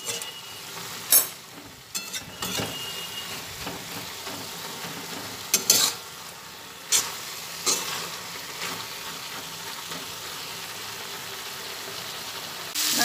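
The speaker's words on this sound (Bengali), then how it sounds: "নাড়াচাড়া করতে করতে সজনে ফুলের চচ্চড়িটা রেডি হয়ে এসেছে।" Drumstick flowers for chachchari fry with a steady sizzle in a pan, broken by several sharp scraping stirs of a spatula spaced a few seconds apart, with no voices.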